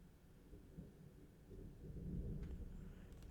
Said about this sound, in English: Oh shit, I hear the thunder.